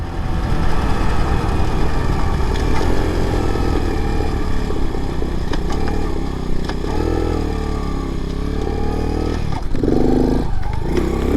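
A small Chinese clone of a Honda CT70 motorcycle being ridden on a holiday outing, a steady close engine drone running throughout with slight shifts in pitch and a rise in revs near the end, no speech.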